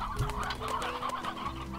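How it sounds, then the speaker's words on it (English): A chicken in the Slime Rancher video game gives a short run of close, clear clucks over a low game-ambience hum, with no voices. "Alright, chicken's back."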